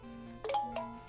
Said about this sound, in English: That's my phone, I'm sorry.